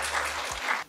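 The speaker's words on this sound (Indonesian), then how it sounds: "boleh tepuk tangannya teman-teman Movieverse" A short burst of audience clapping at a Movieverse fan event with actresses answering questions, brief and fairly close, cutting off abruptly.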